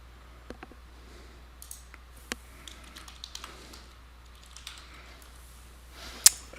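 A computer keyboard is typed on to rename a layer in LP-360 software, producing sparse, soft key clicks scattered over several seconds, with one sharper tap near the end.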